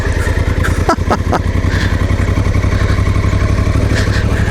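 Africa Twin motorcycle engine idling and chugging steadily at close range as its rear wheel spins, with a brief rise in revs near the start.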